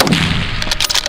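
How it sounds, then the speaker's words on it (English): A rifle shot fired at a wild boar in open mountain country, a loud close report that rolls into a brief rumbling echo. "A well-placed shot dropped the boar instantly."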